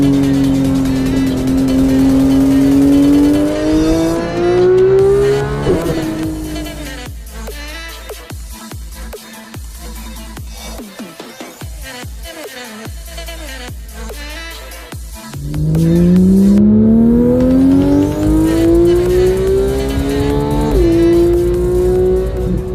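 Porsche 911 GT3 (991) with a 3.8 liter flat six revving hard through rising gears, easing off mid-run with crackling overrun, then surging to a loud high-pitched wail again; no talking.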